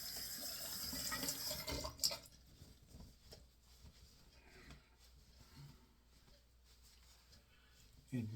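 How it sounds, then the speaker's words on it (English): A tap runs into a sink while alum is rinsed off the face after a shave, with a louder gush of running water at first that fades to quieter trickles and splashes, close by. "And rinse this alum off."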